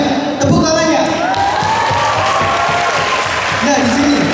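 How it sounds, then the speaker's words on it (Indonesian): Audience clapping and cheering at a literacy workshop in South Sumatra, a dense, steady wash of applause filling the whole stretch with scattered voices over it. "Tepuk tangannya"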